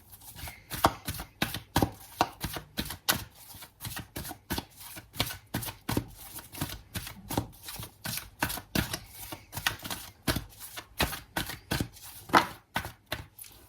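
Tarot cards shuffled and drawn by hand, a close rhythmic series of crisp riffling and slapping bursts repeating steadily, with no talking.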